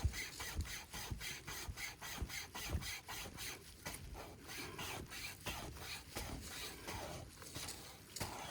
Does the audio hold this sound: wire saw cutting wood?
yes